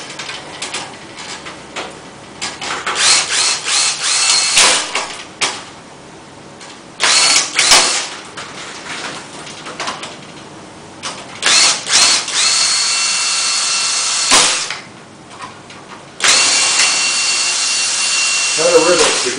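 A power drill bores holes during a teardown of a Lian Li B10 computer case, with repeated loud whirring bursts of varying length separated by pauses, sometimes with a faint voice between them.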